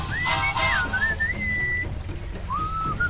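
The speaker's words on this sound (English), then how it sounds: "What is that enchanting whistling sound?" Melodic whistling in the Sam & Max adventure game, a sliding tune of several bright phrases over a low rumbling background, clear and fairly close.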